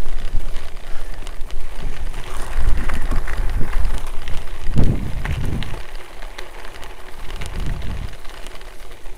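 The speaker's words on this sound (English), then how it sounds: "Very windy today." Steady wind buffets the microphone while cycling near a guided busway, making a loud, rough rumble throughout, with stronger gusts now and then.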